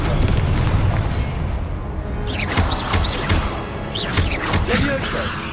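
A Confringo spell in Hogwarts Legacy bursts with a booming explosion, followed by bright whooshing magical effects and further blasts, all set against constant game background sound.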